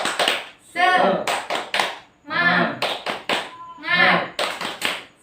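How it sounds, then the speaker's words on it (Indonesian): A class does a rhythmic spirit clap in an Indonesian school lesson, with bursts of sharp, patterned hand claps between loud group chanting and voices. "tepuk semangat dulu ya, biar lebih semangat ya"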